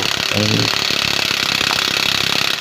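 Impact or power tool tightening the 22mm clutch nut lock on a Kawasaki Barako motorcycle, a rapid rattling hammer-like burst running throughout, close and loud, with a short voice near the start.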